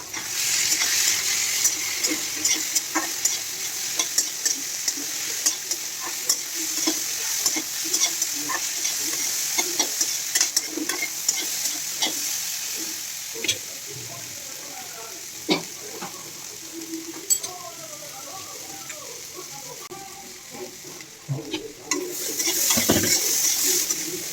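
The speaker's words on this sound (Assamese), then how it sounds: "এইবোৰ শেষত মই ইয়াৰ লগত ভাজি থোৱা চয়াবিন আৰু কণীখিনি ইয়াৰ লগত মিক্স কৰি দিছোঁ।" A spoon scrapes and stirs fried soybeans and egg in a pan, with steady sizzling frying underneath and scattered clicks throughout.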